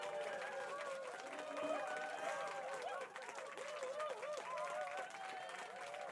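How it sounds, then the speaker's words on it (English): A crowd at a grime memorial event claps and cheers in a steady, faint wash of applause, with scattered voices chattering underneath. "Everybody, give yourselves a round of applause."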